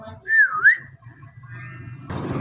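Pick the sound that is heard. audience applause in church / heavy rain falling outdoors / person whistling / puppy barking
person whistling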